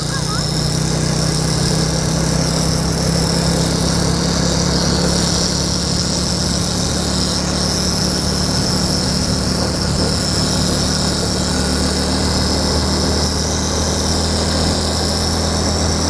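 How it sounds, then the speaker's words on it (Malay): A bicycle fitted with a toy exhaust gives off a continuous engine-like buzzing drone, steady and fairly loud, with no clear breaks from start to finish. "Kau dengar tu bunyi exhaust Cem"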